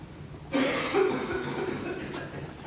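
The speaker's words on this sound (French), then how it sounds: "Tu tousses." A person on a French film set coughs once or twice at close range, a short harsh burst in an otherwise quiet room, with no speech.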